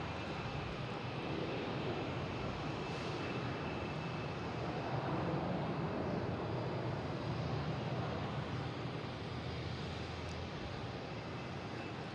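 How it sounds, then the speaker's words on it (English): A United Airlines jet lands on runway 27 at Boston Logan, its engines a continuous broad roar that holds steady at a moderate distance, with no voices over it. "We got United Airlines is landing on runway 27."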